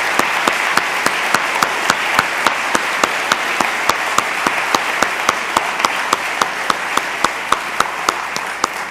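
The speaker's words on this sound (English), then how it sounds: "Could we have a big round of applause for 25 years of service?" Conference audience applauding staff honored for 25 years of service, a broad steady wash of clapping with a sharp regular beat of clapping running through it for nine seconds.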